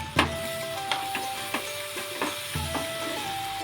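Ginger, garlic and coconut masala fries in hot oil in a pan, with a steady close sizzle broken by several sharp stirring knocks and scrapes of a spoon.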